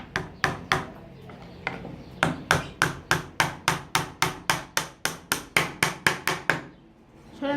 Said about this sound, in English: You need to hammer it in.